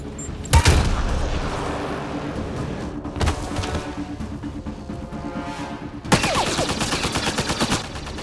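Gunfire from a sci-fi firefight in Mass Effect Andromeda, with loud bursts and sustained rapid automatic shots and booms coming in waves, the densest volley at the end.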